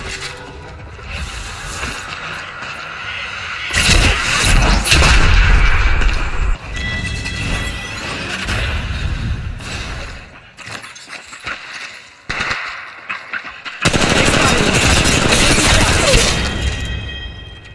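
Loud, sharp bursts of weapon fire and impacts in an Apex Legends Mobile match, coming in long bright blocks split by short gaps, with brief in-game voice callouts between them.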